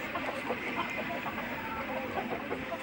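Fayoumi and Tiger chickens cluck softly in a flock, giving scattered low clucks over a steady farmyard background hum.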